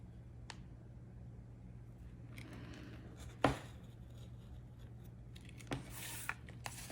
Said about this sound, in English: now we're going to take our ruler and our razor knife and cut off those pieces